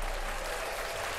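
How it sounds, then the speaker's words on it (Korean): A canned applause effect fired from a button on a Tascam US-42 audio interface, a brief steady wash of crowd clapping with no voices over it. "박수 들어가고요."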